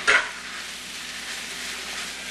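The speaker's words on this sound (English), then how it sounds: "Keep stirring it until everything gets all seared" Beef searing in a pot sizzles steadily and close by, opening with a sharp burst as it is stirred, then settling into an even, bright hiss with no talking.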